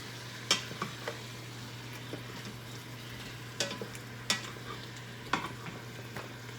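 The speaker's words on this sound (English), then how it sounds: "I'm going to stir this beef and the kielbasa a little bit now" Beef and kielbasa frying in a pan, stirred now and then: a soft continuous sizzle under a low steady hum, broken by several crisp scrapes and clicks of the utensil against the pan.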